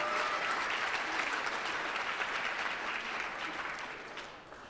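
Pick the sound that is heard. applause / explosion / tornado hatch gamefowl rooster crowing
applause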